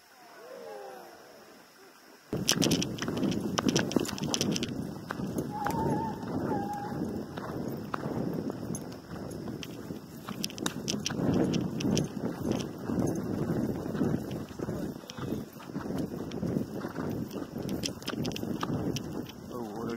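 Pony hooves clip-clopping while following hounds in Virginia, irregular outdoor thuds and clatter with heavy wind buffeting the microphone and some movement noise, fairly close and continuous.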